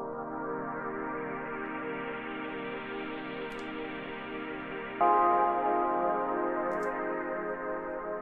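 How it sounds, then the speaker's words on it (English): Sustained electric piano chords layered with a soft synth pad, a steady held chord that shifts to a brighter, slightly louder chord partway through, with no talk. "I use the electric piano sound."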